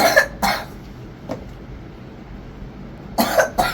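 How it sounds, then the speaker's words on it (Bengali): A child with a cold coughs in two quick bursts, then falls quiet before another pair of coughs near the end, close and fairly loud. "দেখছেন কেমন কাশি?"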